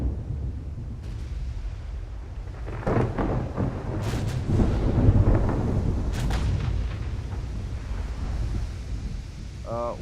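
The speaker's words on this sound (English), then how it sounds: "They are firing heavily at us." Heavy naval gunfire from enemy warships in the Ultimate Admiral: Dreadnoughts naval battle game, booming in deep rolling thunder-like blasts that swell and overlap across the scene, with a voice talking over the barrage.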